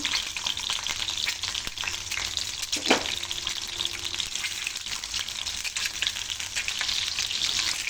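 Eggs fry in mustard oil until light brown, with a continuous close sizzle and a brief clatter partway through.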